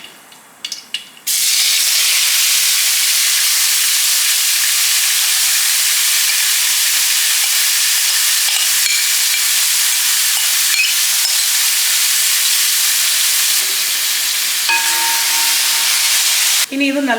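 Mustard seeds and a spice mix for Kerala-style rasam fry in hot coconut oil, a loud, steady, close sizzle that starts abruptly and hisses almost unbroken for about fifteen seconds.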